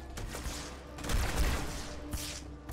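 Rapid gunfire in Halo 2 Anniversary, a steady stream of close, sharp shots and rumbling bursts over nearly three seconds, with a few heavier blasts standing out.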